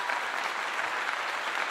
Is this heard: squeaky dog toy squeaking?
no